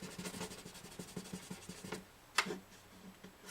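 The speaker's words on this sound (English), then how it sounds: "This is 1500 grit paper right here." Fine 1500-grit sandpaper rubs against the body of a Gibson J40 acoustic guitar in quick back-and-forth strokes, a soft rhythmic scratching that stops partway, followed by a single sharper scrape.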